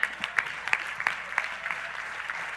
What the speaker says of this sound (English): Clap, everybody clap.